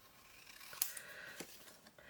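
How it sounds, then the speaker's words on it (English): Scissors trimming paper in a journal, a quiet close snip or two against soft rustling, faint and brief. "I feel like I need to cut it back a little, so we'll cut this part off right here"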